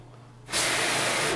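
Water bursts from a faucet spout into a steady, close hissing spray that starts abruptly after a quiet moment and continues evenly.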